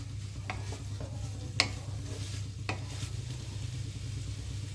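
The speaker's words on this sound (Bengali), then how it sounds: "ব্রকলিটা পেঁয়াজ, লঙ্কা, আদা রসুন বাটার সাথে বেশ কিছুটা ভাজা হয়ে গেছে।" Broccoli fries with onion, chili and ginger-garlic paste in a pan, a soft continuous sizzle with a few sharp spoon scrapes and clinks as it is stirred, fairly quiet and without talk.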